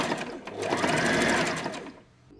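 A sewing machine runs a quick burst of rapid, rhythmic stitching along a nighty seam, loud and close, swelling and then slowing to a stop after about two seconds.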